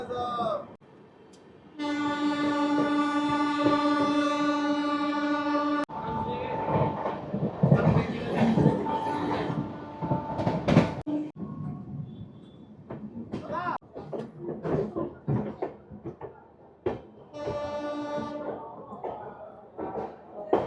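The 22587 Benaras Amrit Bharat Express passenger train runs from Sealdah toward Varanasi, with long, loud horn blasts at the start and near the end over steady rumbling. People talk throughout.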